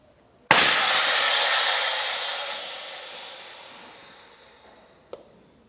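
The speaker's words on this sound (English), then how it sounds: "you're going to turn your solenoid to the left, and it will release some air when you do that" A sharp burst of air hisses from a Ford Expedition air spring solenoid as it is turned, loud and close, then tapers off gradually over several seconds before a faint click at the end.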